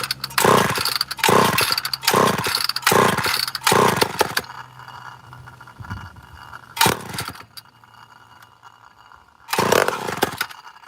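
An old blue chainsaw fitted with a Matchbox muffler runs loud and near in repeated hard revving bursts, then drops to a rough idle broken by two more sharp revs.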